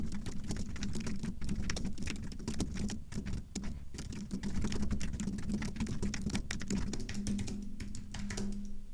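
Steady, rapid typing on a computer keyboard, dense clicking keystrokes running continuously and close up, with no talking.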